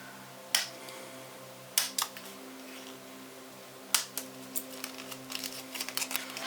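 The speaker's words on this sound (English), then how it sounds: "So all I'm going to do is just trim a little bit off." Paper die-cut pieces being trimmed by hand, giving a few sharp, close snips and clicks spaced apart, then a quicker cluster of small cuts, over a low steady hum.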